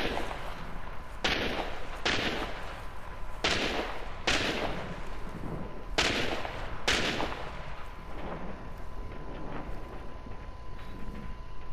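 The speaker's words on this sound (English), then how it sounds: "Oh, they're shooting this meathead in front of me." Gunfire rings out in the video game Hunt: Showdown as about seven heavy, reverberating shots crack at irregular intervals at mid-distance, each trailing off in a long echo, with no talking.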